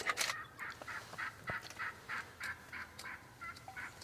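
Rapid, rhythmic gobbling calls from wild turkey toms repeat a dozen times at a distance, faint and steady against quiet woodland background in spring.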